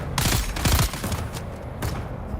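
Gunfire from the Dune: Awakening video game crackles in several close, loud bursts, a dense volley of overlapping shots followed by a sparser later round, with no talking over it.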